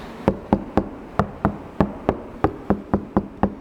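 A dozen quick knocks on a car door treated with Dynamat sound-deadening, evenly paced and close by, each rap short and dull with little ring.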